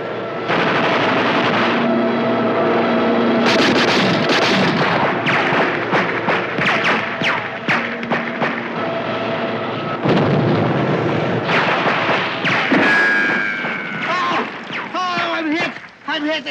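Shipboard anti-aircraft guns blast away at an attacking plane in a naval wartime comedy series, a dense, loud barrage of booming shots and bursts. Shouted commands and voices mix in with the gunfire throughout.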